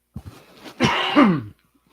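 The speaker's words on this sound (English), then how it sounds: "I'm gonna cough." Two small throat clicks, then a single harsh, throaty cough up close, ending abruptly in silence.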